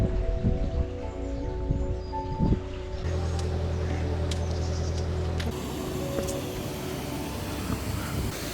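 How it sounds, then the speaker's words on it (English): Rain falling beside a canal near the locks toward Napton Junction, a steady broadband patter and hiss running throughout, with low machine-like tonal hums underneath and a few louder drop or knock transients. "here comes the rain"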